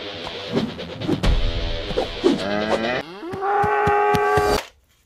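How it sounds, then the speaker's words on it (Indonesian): Cow mooing in the video game Jurassic World Evolution 2, a loud, drawn-out bellow with rising and falling pitch, ending in a long sustained moo before stopping abruptly. "ternyata di sini kita menemukan sapi"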